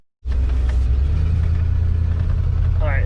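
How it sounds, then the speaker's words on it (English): A 9-inch lifted OBS Ford truck starts moving and holds a steady, loud, close engine rumble with a throaty low drone that continues unbroken throughout. "I feel like taking it for a ride and seeing if the shocks changed anything."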